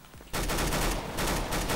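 Sustained rapid gunfire in the video game CS:GO, loud dense bursts that start abruptly and continue without pause, with no talk over them.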